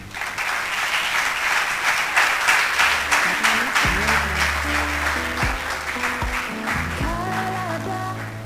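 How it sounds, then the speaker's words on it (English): An audience at an evening speaking event applauds steadily in a dense, sustained wash of many hands, while low musical tones and a faint voice sound underneath partway through. "A round of applause for her again."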